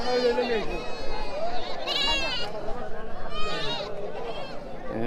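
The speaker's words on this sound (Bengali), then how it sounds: "পাশেও কিন্তু প্রচুর ছাগল রয়েছে আপনাদেরকে দেখাই" Goats bleat repeatedly at a goat market, wavering calls rising over a busy crowd with people talking nearby.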